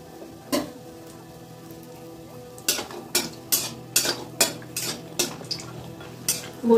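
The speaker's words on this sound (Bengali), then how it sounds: "বড়িগুলো লাল লাল করে ভেজে নেব" A spatula knocks and scrapes against a wok as lentil dumplings (bori) fry in hot oil: a sparse early clink, then a quick run of about nine sharp metallic hits over a faint, low sizzle.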